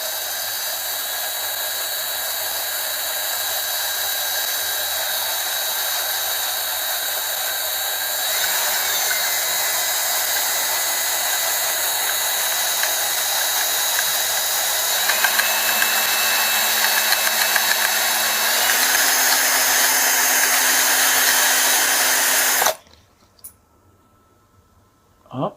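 A power tool runs steadily at a slow setting, cutting out a stuck screw, its loud continuous whine shifting pitch a few times before cutting off abruptly near the end, leaving near silence.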